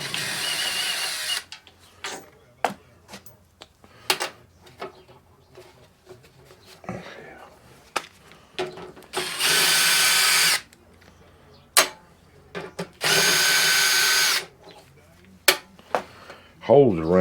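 A power drill backs a bolt out of a furnace during repair, with repeated short bursts and two longer sustained whirring runs amid clicks, handling noises and brief talk.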